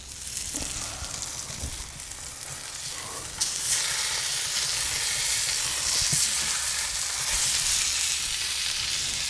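Tomahawk ribeye steaks sear on a hot Kamado Joe soapstone, giving a steady, close sizzle and frying hiss that swells louder about a third of the way in and holds, with a few soft clicks from handling.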